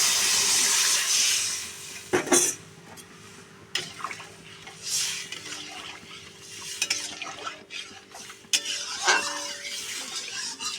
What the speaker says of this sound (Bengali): যে আমি ডাল সেদ্ধ করে রেখেছি, ডালটা এবার ঢেলে দেবো